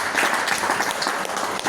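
Audience applause at a home business meeting on Kailash Nagar Road, Ludhiana, with steady, dense clapping filling the room throughout.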